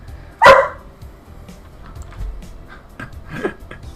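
A dog indoors lets out a single loud, close bark at the start, followed by a few fainter rustles and small sounds in a quiet room.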